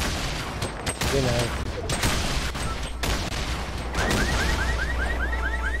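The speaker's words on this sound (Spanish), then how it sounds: "se escuchan balazos al fondo" Gunfire in Fortnite crackles in quick bursts through a busy match, mixed with other game noise while players talk over it.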